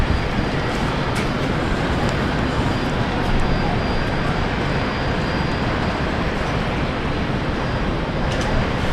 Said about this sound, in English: 19 left, clear for takeoff, Jetstar 563.